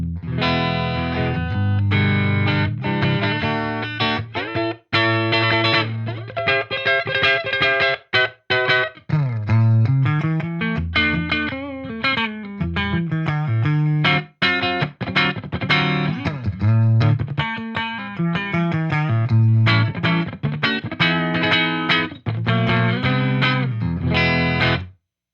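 Balaguer Espada electric guitar played on an EVH amp's clean channel through the neck pickup, strumming chords and picking single-note runs continuously and loudly, with a chorus-like shimmer.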